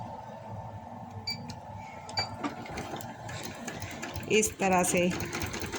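A sewing machine stitches a pocket onto palazzo pants in quick mechanical bursts. Its needle clatters rapidly and steadily at close range, with a voice speaking briefly over the running machine.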